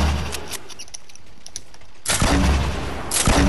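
Heavy explosive bursts from a grenade launcher firing during an online shooter video game, two loud booming blasts with a quieter stretch between, close and dominant.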